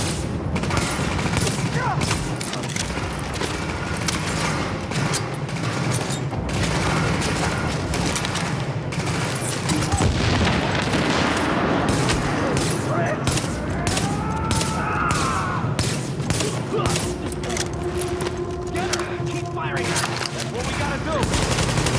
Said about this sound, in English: Escort party's taking heavy fire from the roof